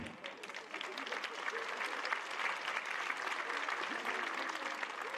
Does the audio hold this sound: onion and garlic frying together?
no